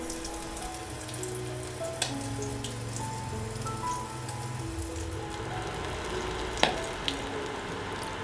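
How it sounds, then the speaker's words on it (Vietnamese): Battered squid pieces frying in hot oil, a continuous fine crackling sizzle with scattered sharper pops, close and steady throughout, with no talk. "Mình nhúng từng miếng mực qua bột ướt rồi đem chiên."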